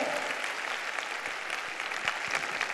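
A church congregation applauds in a dense, sustained wash of clapping that stays level throughout, without voices rising above it.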